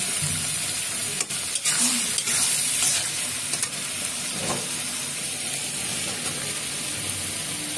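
Ghugni cooked with mutton fat is sautéed and stirred, giving a constant hissing sizzle with several clanking spatula strokes early on that settle into steady frying.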